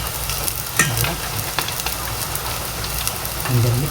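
Food frying in a pan with patis fish sauce, a steady loud sizzle with occasional scraping clacks of a utensil stirring and mixing, close up throughout.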